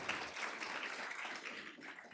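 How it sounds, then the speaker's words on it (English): Steady applause from an audience at a fashion talk, a dense, even wash of clapping at moderate distance that holds for about two seconds. "I think that deserves a huge round of applause"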